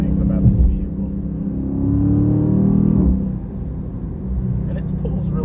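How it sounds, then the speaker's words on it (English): A Dodge Charger 392 rumbles from inside the cabin while driving, its deep exhaust burble swelling and easing as the throttle changes, heard under someone talking. "So I'll let y'all hear the car a little bit. I love like the burble of the exhaust."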